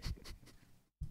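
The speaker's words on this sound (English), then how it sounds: "Are you typing?" Rapid light clicking of keys on a keyboard, fairly close and continuous for about a second, with a brief silent gap before it resumes.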